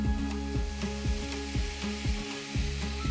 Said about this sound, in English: Okay, we're now ready to cook the pork. I've got a hot griddle pan here